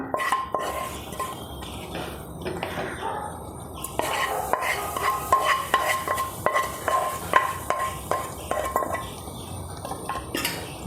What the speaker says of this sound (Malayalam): നമുക്ക് നന്നായിട്ട് ഇത് ഇളക്കി കൂട്ടാം